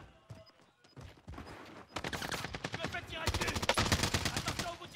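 Rapid bursts of automatic gunfire in an online shooter game, loud and dense, starting sparse and building into continuous rattling volleys, with players talking in French over the shots.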